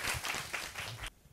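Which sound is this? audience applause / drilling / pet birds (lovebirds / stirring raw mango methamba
audience applause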